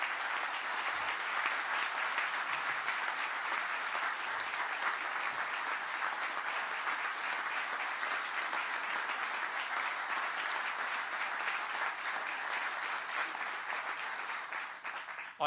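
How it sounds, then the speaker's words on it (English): An audience applauds at a Toyota announcement about the Greensboro-Randolph Megasite, a long, even wash of clapping that holds steady for about fifteen seconds and then stops abruptly. "applause."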